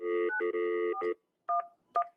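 Touch-tone telephone keypad being dialed, a quick run of dual-tone beeps followed by two more separate tones after a short pause, clear and close with no voices.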